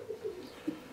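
A racing pigeon, a marathon and extreme-distance flier, gives soft low coos in a quiet setting, a few short murmuring calls spread across a brief moment.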